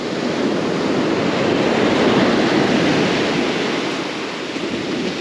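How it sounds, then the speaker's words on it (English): Ocean surf washes steadily onto the shore at a coastal crabbing spot for Dungeness crab, a loud, continuous broadband roar with no breaks and no voices. "just wait for the waves to come in"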